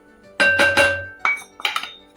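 Rice flour stirred into boiling water in a cooking pot for homemade rice papad, giving a handful of close, bright metallic clinks and knocks in quick uneven bursts, with no talking.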